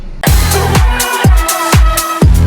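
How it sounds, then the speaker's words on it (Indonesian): A Ford Escape XLT 2.3 facelift horn plays a loud, close melodic tune, a run of punchy repeated notes with booming low thumps, and no voices. "Nah, seperti itu bunyi klaksonnya."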